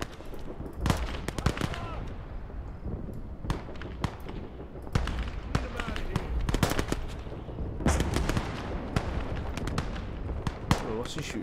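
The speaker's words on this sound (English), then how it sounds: "Oh, what's he shooting at?" Repeated machine-gun bursts and scattered gunshots in the World War II video game Gates of Hell, loud and close, firing in dense volleys over roughly eleven seconds with someone occasionally talking underneath.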